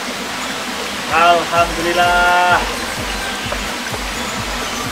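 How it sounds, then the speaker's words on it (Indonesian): The Roro Bedayu waterfall gives a constant loud rush of falling water close by, while a voice speaks briefly over the roar. "sudah sampai di air terjun Roro Bedayu"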